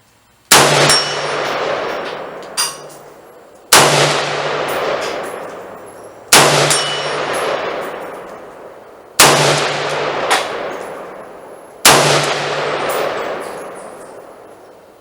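Five sharp Ruger Mini 14 .223 rifle shots at a steady pace of roughly one every three seconds, each cracking loud and close, then ringing off a steel target with a lingering metallic clang and a long decaying tail.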